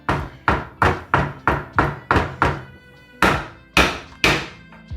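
A knife chops through dried ginger on a board, about a dozen heavy thunks in a steady rhythm, a short pause, then three louder strikes.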